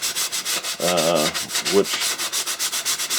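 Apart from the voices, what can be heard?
sanding wood with a foam sanding block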